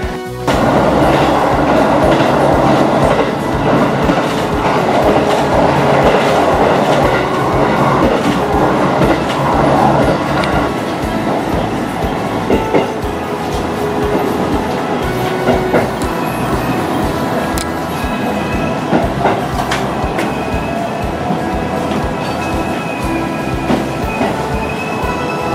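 A Japanese passenger train runs on rails as it arrives at Kusatsu Station, a loud continuous interior rumble with rhythmic clickety-clack of the wheels over about half a minute and no talking.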